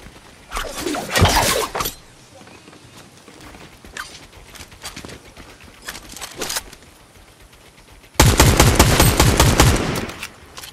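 Automatic gunfire in the video game Fortnite, loud rapid bursts early on, scattered shots through the middle, then a heavy sustained volley near the end, with crashing impacts mixed in.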